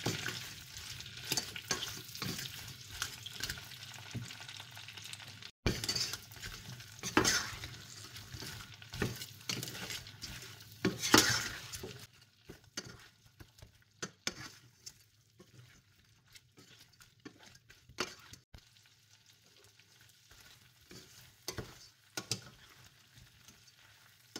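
Shrimp fry in a pan, a soft crackling sizzle with intermittent stirring scrapes and clicks, busier at first and thinning to sparse pops later.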